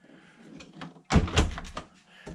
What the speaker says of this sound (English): And then the double doors for the refrigerator portion of that.